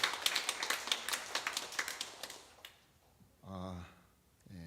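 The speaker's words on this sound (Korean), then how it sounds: "우리 박수로 환영하겠습니다." A church congregation at a Sunday service gives a short round of welcoming applause, quick rhythmic claps for under three seconds that fade out, followed by a few spoken words.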